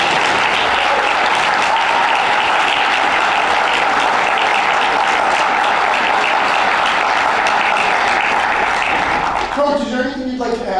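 Loud, dense audience applause fills a school board meeting room, steady and continuous for about ten seconds before tapering off as a voice begins speaking near the end.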